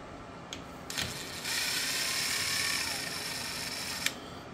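A screwdriver works screws loose from a kerosene heater, giving a steady close-up ratcheting, grinding rasp with a few sharp clicks at the start and end.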